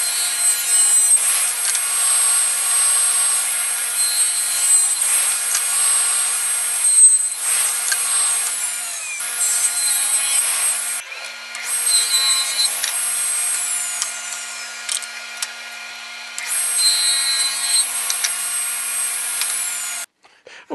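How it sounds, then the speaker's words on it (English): A table saw rips a wood board in several long passes, a loud, steady whine of the blade cutting with brief dips and pauses between passes, alone without talk. "I already have my glue line rip set up in the table saw"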